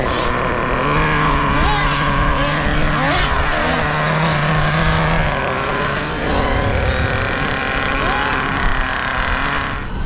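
A Traxxas Nitro Slash 3.3 nitro RC car drives on a track, its small engine giving a loud, steady high-pitched whine with pitch sweeps as it accelerates and slows, continuous throughout with no talk.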